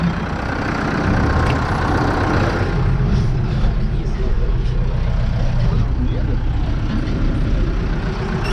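A Massey Ferguson 5435 tractor on a farm in spring, its diesel engine running with a loud, steady low rumble up close. Speech is heard over it.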